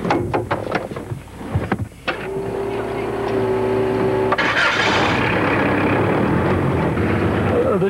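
A mini tractor-trailer truck's engine cranks with a few sharp clicks and a whine, then catches and settles into a steady, loud rumble close by, with a person speaking briefly before it starts.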